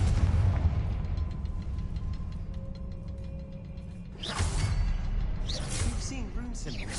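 In Hogwarts Legacy, a Confringo blasting spell goes off in a cavern: a low mechanical rumble gives way to a sudden explosive whoosh and burst, followed by a second crackling swish.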